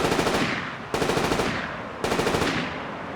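Gunfire during an execution in the video game Mars War Logs: three loud bursts of rapid automatic fire, each a rattling volley that fades out before the next begins.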